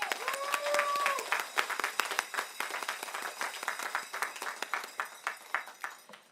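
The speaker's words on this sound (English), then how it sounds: "Let's give them a round of applause." A crowd claps in a round of applause at a university convocation ceremony, with dense clapping that thins into distinct scattered claps toward the end. A brief tonal whistle or voice sounds near the start.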